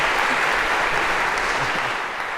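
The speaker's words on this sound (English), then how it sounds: "a round of applause for Spot as well" An audience gives a steady round of applause for Spot, a dense, even wash of many hands clapping at once, sustained and loud with no talking over it.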